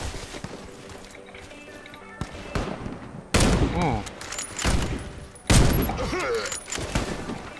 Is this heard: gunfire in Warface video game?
yes